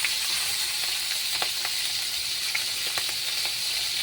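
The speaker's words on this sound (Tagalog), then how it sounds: "Igisa na po natin." Garlic sautéing in a pan with browned meat, a steady close sizzle with occasional small pops and crackles, no talking.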